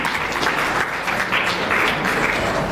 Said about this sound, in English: We welcome him with a round of applause,